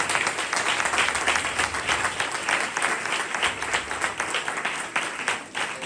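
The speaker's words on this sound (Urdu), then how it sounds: "خداوند یسوع کے جلال کے لیے زوردار تالیاں بجائیں" A church congregation at a thanksgiving meeting claps loudly, a thick, steady wash of applause that swells in gentle pulses for several seconds.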